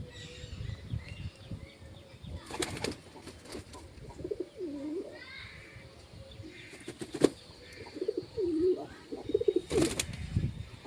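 Pigeons at a home loft flap their wings in several sharp bursts as they take off, mixed with soft cooing and some nearby voices and background noise.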